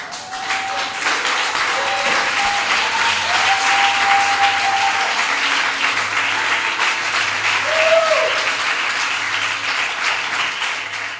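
A church congregation at a Pentecost service claps and cheers in praise of Jesus, a steady, full wash of applause filling the room, with a few raised voices and whoops riding over it.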